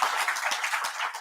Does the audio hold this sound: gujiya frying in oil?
no